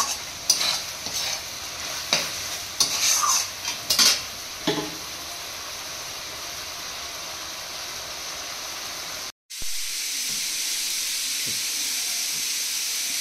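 Korean-style chowmein with spring onions frying in a pan: clattering stirring and scraping over a hiss for the first few seconds, then a steady, even sizzle runs alone to the end.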